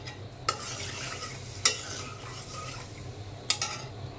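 Ridge gourd fries with onion and garlic in a pan, giving a steady soft sizzle close up while a utensil stirs, with three sharp metallic clinks against the pan.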